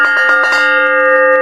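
An antique Walberg Auge theatre sound plate struck to imitate a church or fire bell: a few quick ringing strikes at the start, then a bright, sustained metallic tone that rings on loudly and alone.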